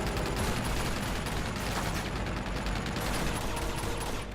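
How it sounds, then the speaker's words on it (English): Continuous, dense gunfire from a blind-firing shootout in the video game Uncharted 2: Among Thieves, with rapid overlapping shots that stay loud and unbroken throughout. "I'm wary of the dude with the shotgun, which is why I'm still blind firing"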